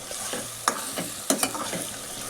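Tomatoes soften in a hot pan for Malvani prawn rice, giving a low, steady sizzle broken by a few sharp clinks and scrapes of a spoon stirring against the metal.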